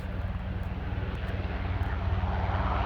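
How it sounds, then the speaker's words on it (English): A CHC helicopter lifts off at Aberdeen airport, its steady low rotor and engine roar building in loudness as it climbs, heard from nearby and continuous without talk. "And there's a helicopter taking off."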